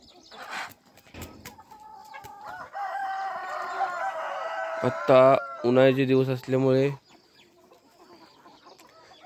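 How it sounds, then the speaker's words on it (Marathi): Desi chickens let out at dawn on a poultry farm crow loudly and cluck nearby in several drawn-out, wavering calls, while someone talks over the start. "आपल्या कोंबड्यांना बाहेर हिंडण्यासाठी मोकळं सोडलेलं आहे."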